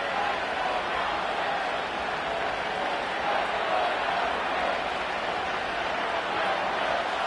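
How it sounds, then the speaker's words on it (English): A Miami Dolphins NFL home crowd roars steadily through a broad, unbroken wall of noise after a third-down play, loud and dense with no pauses or distinct individual voices. "The crowd making their presence felt."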